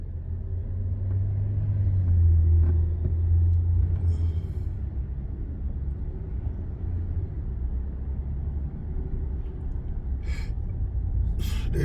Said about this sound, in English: I don't know why these cars are slowing down